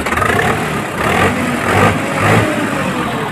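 A used Preet tractor idles at a tractor market in Muzaffarnagar. Its engine gives a steady, loud, close rumble with slight swells in revs, and no voices are heard.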